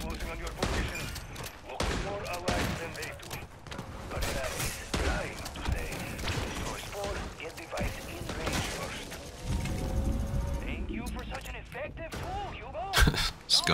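Gunfire in MW3 Zombies rings out in repeated bursts and single shots, mixed with mechanical clicks and thuds, while a voice talks over the action.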